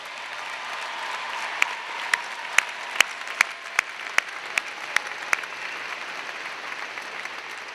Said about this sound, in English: Graduates, please join me in a round of applause for your family and friends